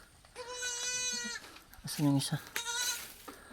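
A goat that has just given birth to twins bleats in several wavering, nasal calls at close range, with people talking over and between the cries.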